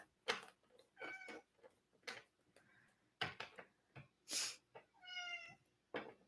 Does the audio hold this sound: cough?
no